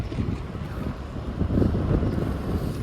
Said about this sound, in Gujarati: જુઓ હે ને કેટલું પવન આવી રહ્યું છે.